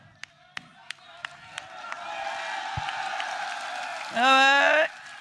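Crowd at a Shri Madhopur election rally for Jhabar Singh Kharra with Vasundhara Raje: a few sharp isolated claps, then a swell of crowd noise and chatter, ending in a loud burst of shouting through a public-address system.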